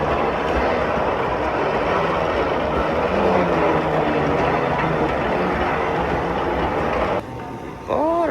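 A shuttle train runs inside an airport, with a continuous low rumble and rolling noise heard from on board. Near the end it drops away, followed by a brief rising tone.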